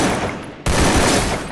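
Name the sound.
gunfire in a battle royale video game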